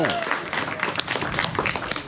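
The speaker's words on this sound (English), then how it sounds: "Let's give her a nice big clap." An outdoor crowd on a farm near Sydney claps in a brief patter of scattered applause, with talking overlapping it.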